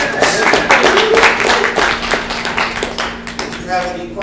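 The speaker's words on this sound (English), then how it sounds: "Everybody, round of applause for our first-timers." Applause for first-time attendees at a Drupal meetup: dense clapping runs steadily through the clip, mixed with crowd chatter and a low steady hum in the room.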